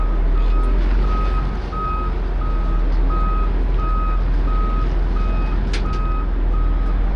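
An Unverferth 2070 grain cart reversing, its backup alarm beeping steadily at regular intervals, about once every 0.7 seconds, over a constant low rumble of the towing tractor's engine.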